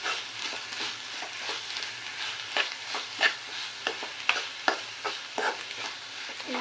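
Ginger paste frying in a pan, a soft steady sizzle broken by rhythmic scraping and stirring strokes, close and fairly quiet with no voices.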